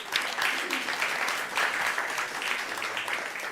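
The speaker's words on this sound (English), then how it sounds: "round of applause to our award winners recipient today." An audience at a travel summit awards ceremony applauds the award winners, a dense, sustained round of clapping that continues for several seconds, with a voice faintly underneath.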